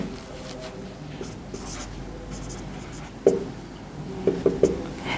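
A pen scratches steadily across paper as a maths solution is written out, with soft continuous strokes and a few sharper taps near the end. No one speaks.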